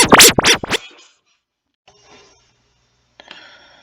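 Recording run through a tone-based processor at 100% feedback: a few loud swept, scratchy bursts up front, then faint sparse crackly echoes trailing off and a short smeared burst near the end.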